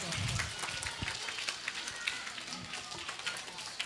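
Children applauding teachers at a school Teacher's Day celebration, a steady wash of many small hands clapping at a distance, with a voice speaking briefly over it.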